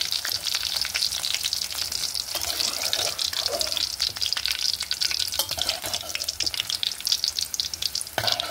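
Okra pieces fry in hot oil in a pan for a village-style Andhra chutney, giving a continuous close sizzle with scraping and stirring sounds throughout and no talking.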